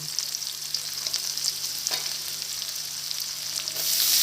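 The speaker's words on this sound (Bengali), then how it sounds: "আমি ভেজে নিচ্ছি তো পেঁয়াজটা একটু ভাজা ভাজা হয়ে এলে আমি কড়াই শাকটা দেব" Chopped onions frying in oil in a kadai ahead of adding khesari greens, a steady close sizzle and crackle with occasional stirring scrapes, no voices.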